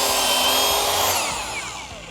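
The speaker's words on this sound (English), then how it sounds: "drill pocket holes into thinner pieces" A Kreg Rebel pocket hole joiner drills pocket holes into thin scrap wood, its loud, close motor whine running steadily and then winding down in pitch toward the end, with no voices.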